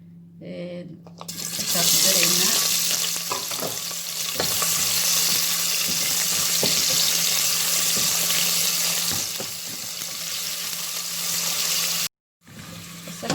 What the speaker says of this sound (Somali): waxaa ku bilaabeynaa saliida digsiga ku shubaneynaa